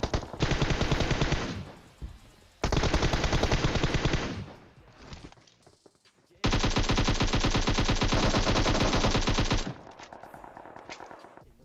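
Rapid automatic gunfire from the video game PUBG comes in long, loud, dense bursts separated by short pauses, with fainter shots between them.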